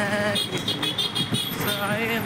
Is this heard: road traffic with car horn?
yes